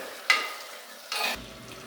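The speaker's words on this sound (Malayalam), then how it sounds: "നല്ല ഇളക്കി കൊടുക്കട്ടെ നമ്മൾ" A spoon stirs raw banana and yam erissery, a Kerala curry, in a pot on the stove. Two short scraping strokes sound close and alone, one at the start and a longer one near the end.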